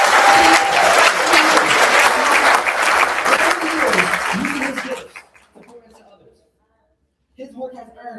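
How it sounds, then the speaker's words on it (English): A high school graduation crowd applauds loudly for about five seconds, with scattered cheers and chuckles mixed in. The clapping then fades to near silence before faint voices pick up. "Can we give him a round of applause?"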